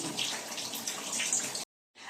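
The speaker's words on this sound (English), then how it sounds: "do you guys see how low the water pressure is?" A tap runs at low water pressure into a sink, a soft, steady close-up hiss that cuts out briefly near the end and then resumes.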